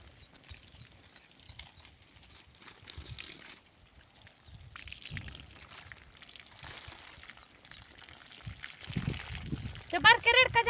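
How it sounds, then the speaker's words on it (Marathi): Water is splashed and poured over a buffalo calf on a farm in hot weather, with faint trickling and splashing heard under people talking nearby. "ते बारके रेडकाच्या अंगावर पाणी मारलं का?"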